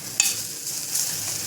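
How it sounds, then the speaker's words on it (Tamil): Cauliflower stuffing sautéing in a pan, a quiet steady sizzle with a sharp scrape of stirring near the start and another soft stir about two-thirds through. "இதை ஒரு 2 நிமிஷம் வதக்கிக்கலாம்."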